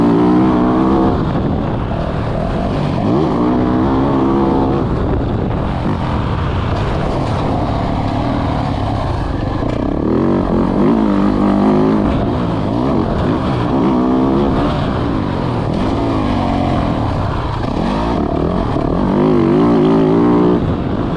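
Motocross dirt bike riding a freeride jump course, the engine loud and close throughout, revving up and dropping repeatedly as the rider takes jumps, wind noise mixed in.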